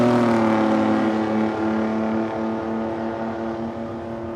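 Drag race cars, including a Ford Cortina, run at a raceway with a loud, steady engine roar that rumbles close at first and then slowly fades over a few seconds.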